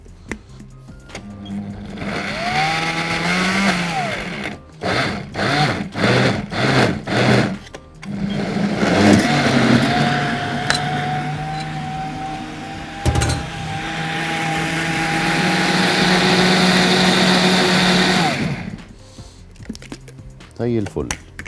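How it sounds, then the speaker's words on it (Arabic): A blender whirs in bursts, then runs in a long steady spell, mixing plum juice with yogurt in a kitchen, with someone talking between and over the pulses. "هنسيب الكلام ده يتضرب بقى مع بعضه."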